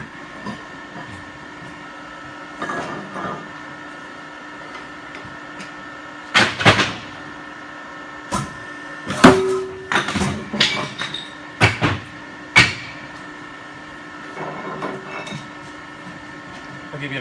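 A Bestlink CP90 40T B stone recycling machine runs in the USA with a steady mechanical hum, broken by scattered loud clanks and knocks of material moving through it.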